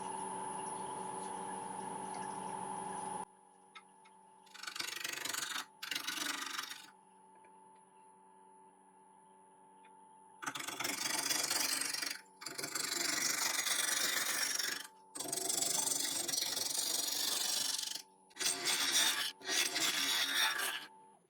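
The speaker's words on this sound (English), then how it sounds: "So we'll be starting off with a 5/8 inch ball gouge." A 5/8 inch ball gouge cuts a piece of yew spinning on a lathe at 720 RPM, giving several loud rasping bursts of a few seconds each, separated by quiet pauses over a steady motor hum.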